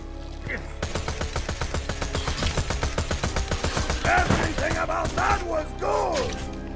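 Rapid gunfire from a weapon in the fantasy shooter Tiny Tina's Assault on Dragon Keep rattles in fast, evenly spaced bursts for several seconds, with a person talking over the later shots.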